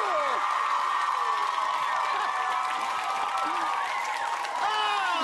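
A TV studio audience votes by applause, giving a dense wash of clapping mixed with cheers and whoops from a crowd of voices, sustained and fairly loud throughout.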